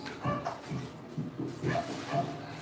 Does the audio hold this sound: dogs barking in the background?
yes